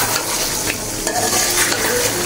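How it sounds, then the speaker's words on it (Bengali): Broiler chicken and potato pieces are stir-fried in a pan for a bhuna, a loud close sizzle broken by scraping stirs of a spoon against the pan, with no talking. "এর মধ্যেই আমি আলু দিয়ে আর একটু কষিয়ে নেব।"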